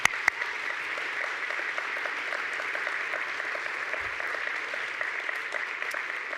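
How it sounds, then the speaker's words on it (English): Audience applause at an arts and humanities awards ceremony after a performance, a steady dense patter of many hands clapping, moderately loud and sustained throughout with no speech over it. "Let's give them another round of applause."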